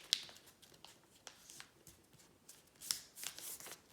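Paper being folded and creased for a C-74 AngleWing paper airplane, heard as quiet, sparse crinkles and soft rustles with a few sharper crisp snaps, close and alone.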